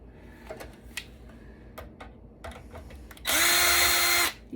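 A power drill runs in one loud sustained burst of about a second while unscrewing screws from a Dell PowerEdge R510 server being scrapped, after scattered clicks and taps of handling the metal frame.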